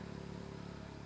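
A truck engine running rough with a poor-sounding motor and heavy smoke, giving a steady, uneven mid-pitched clatter throughout, moderately quiet and heard alone.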